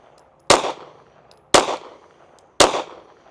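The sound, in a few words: pistol gunshots fired at USPSA targets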